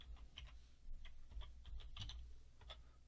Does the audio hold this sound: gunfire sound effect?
no